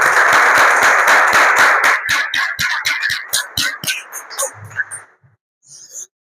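Church congregation applauding in a worship service, a dense burst of clapping that thins into scattered individual claps and fades out after about five seconds.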